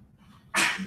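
A single sneeze bursts out suddenly near the end after quiet breathing and room noise in a lecture setting.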